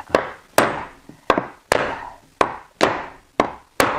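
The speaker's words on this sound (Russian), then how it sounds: "Молоточек возьмем вот эти двумя молоточками." Two hammers drive nails into tongue-and-groove wooden ceiling boards, giving eight sharp, ringing strikes in a fairly steady rhythm. Each blow rings out briefly, loud and close, with no talk.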